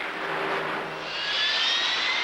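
A jet aircraft spooling up to full takeoff power on a ship's flight deck, a loud, steady broadband roar with a rising high whine, close and unbroken, with no voices.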